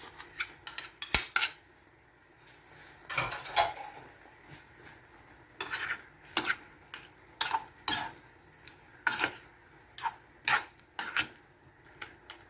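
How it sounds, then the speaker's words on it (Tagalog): Mushrooms stirred into creamy pork in a pan: repeated close clinks and scrapes of a metal utensil against the pan in uneven bursts, with a faint sizzle underneath and no talk. "At ilagay ko po yung ating mushroom."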